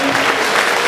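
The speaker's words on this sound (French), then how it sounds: "devant les applaudissements de tout le monde" Audience applause at a race ceremony, a steady dense patter of many hands clapping throughout with no talk over it.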